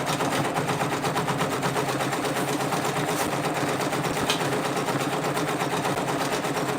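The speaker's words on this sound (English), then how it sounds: "We're just going to chillax and watch this stitch out." A Brother Persona PRS100 embroidery machine stitches out a patch, giving a steady, dense, rapid mechanical whir that runs without a break and fills the whole stretch at close range, with no talking.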